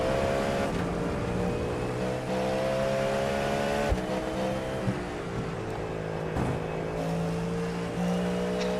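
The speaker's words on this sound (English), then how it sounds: "I can hear it in the car when you're like half throttle and then full throttle because the engine note changes" Race car engine from a video game droning at steady high revs with shifting pitch, occasional gear changes and tire noise, no talking; endurance racing at Circuit de la Sarthe.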